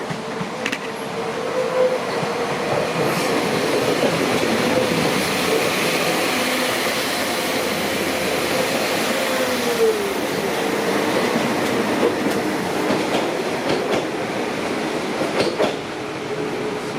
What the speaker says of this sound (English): We now have departing a Transport for Wales 197 to Cheltenham Spa.